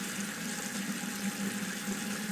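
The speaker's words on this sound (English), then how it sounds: "This time I'm just going to rinse it." Steady water swishing and trickling as a Kolinsky sable watercolor brush is rinsed, a continuous close wash with no talking.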